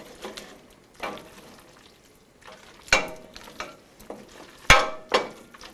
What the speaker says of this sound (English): we need to mix the cheese into the pasta, making sure that it is evenly distributed